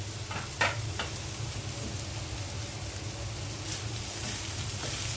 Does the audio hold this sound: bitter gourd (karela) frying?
yes